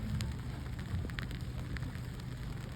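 Steady rain patters on an outdoor crowd gathered for a peace walk, a dense, even hiss with scattered droplet taps throughout.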